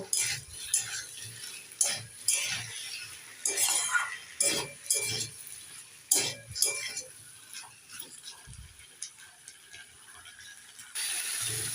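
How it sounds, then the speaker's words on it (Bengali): Tomatoes being stirred in a pan for a curry of taro and bata fish: repeated scraping and clinking of a utensil against the pan in irregular bursts, close and moderately loud, with no talk. "টমেটো দিয়ে একটু নেড়ে ছেড়ে নিয়ে নিয়েছি"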